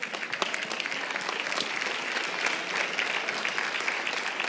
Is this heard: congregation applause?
yes